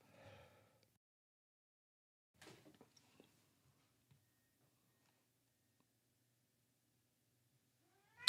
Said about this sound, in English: Sorry about the cat in the background. She's crying today.